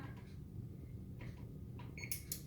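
An electric oven gives two short, sharp beeps close together near the end as its temperature is set to 375 degrees, heard over a low room hum.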